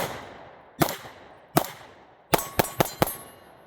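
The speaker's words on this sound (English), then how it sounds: "Let's shoot a few of those further targets out there." Several distant handgun shots from an FN Reflex striking far steel targets, each crack followed by a bright metallic clang: two spaced hits, then a quicker run of four, with no talk.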